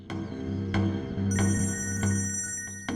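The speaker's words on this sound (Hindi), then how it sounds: "आपका फोन बज रहा है" A phone ringtone plays repeatedly, a bright electronic tone pulsing about every two-thirds of a second, close and fairly loud.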